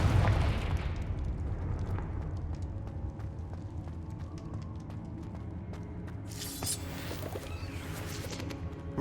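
A Confringo fire spell explodes in Hogwarts Legacy with a heavy, booming blast at the start that rumbles away, followed later by a crackling hiss of debris over quiet game ambience.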